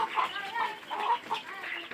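Sonali chickens, a laying parent flock, cluck and murmur softly nearby, a few short calls rising over one another.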